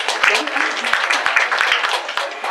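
An audience applauds at the opening of an evening talk on the language situation in the European Union, with dense, steady clapping filling the space and a few sharper individual claps standing out nearby.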